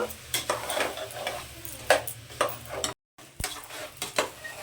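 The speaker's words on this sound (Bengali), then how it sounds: "চালটাকেও কিন্তু এটার সঙ্গে আমি এবার একটু কষিয়ে নেব" Washed, drained rice is stir-fried in oil for methi pulao: rhythmic scraping strokes of a spoon against the pan over a soft sizzle, with a brief silent break.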